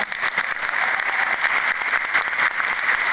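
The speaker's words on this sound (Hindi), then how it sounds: "तो ताली बजाइए कि हाँ" A seminar audience in Lucknow breaks into continuous applause, a dense, bright patter of many hands clapping steadily at close range with no talk over it.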